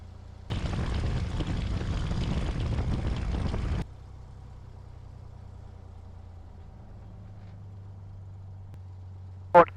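A small private airplane sits with its engine running at an airport, a low steady hum, preceded by a few seconds of louder broadband noise and ending with a brief sharp radio-like burst.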